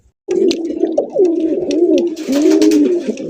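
A pair of large coloured Rasgolla pigeons coo loudly and close by in repeated rolling, wavering calls, with brief clicks and flutters between phrases.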